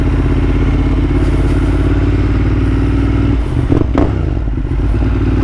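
A Ducati Monster 1200S heading into the city gives a loud, continuous engine drone with deep low rumble and wind noise, and a brief clattering burst near the end.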